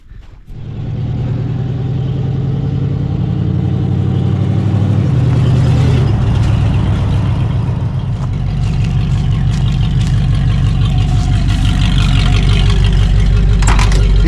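Four-door Jeep truck running on a homemade driveshaft, its engine droning loud and steady from start to finish with low rumble and rising revs as it drives off, with no talking.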